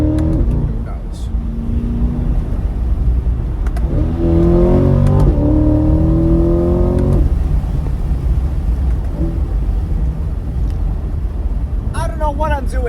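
A car accelerates hard through a corner on a street, its engine note climbing in pitch as it revs up, then settling into a steady drone, with someone talking throughout.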